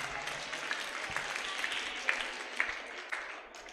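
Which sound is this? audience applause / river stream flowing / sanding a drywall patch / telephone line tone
audience applause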